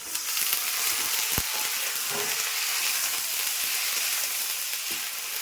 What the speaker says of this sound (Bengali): আমি লতিগুলি দিয়ে দিচ্ছি।